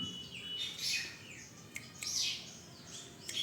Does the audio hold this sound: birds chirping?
yes